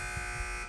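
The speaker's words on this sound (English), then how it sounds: "wait for the buzzer if you want to answer." A quiz game answer buzzer gives one steady electronic tone that holds loud and continuous for most of a second before cutting off.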